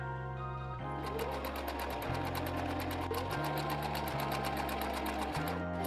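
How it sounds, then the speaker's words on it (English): A sewing machine chain-stitches rag quilt squares together in a continuous run, its motor speed rising and falling in several steps over a steady, close, fairly loud hum. "When you start sewing a whole bunch of squares together and they're all connected by one piece of thread, or two pieces actually, this is called a daisy chain."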